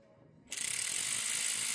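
Ratchet running cylinder head bolts down on a Chevy SS Impala engine block, starting after a short quiet lead-in with a rapid, steady, close clicking pawl buzz that continues without pause.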